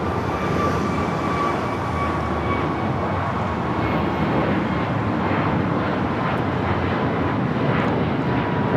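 An airliner takes off from runway 25 right at LAX, a loud, continuous engine roar that holds steady for several seconds and then builds with rumbling texture.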